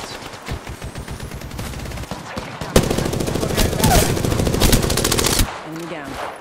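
Gunfire in the video game Apex Legends, a sustained stream of rapid automatic shots that steps up sharply in loudness midway and then cuts off, with faint voice chatter underneath.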